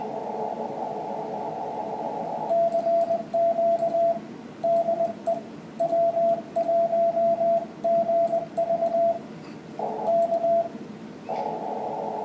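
Amateur radio Morse code sends the call sign W1GV, a clear steady tone keyed in short dits and longer dahs at moderate speed over a hissy band with a droning carrier between bursts.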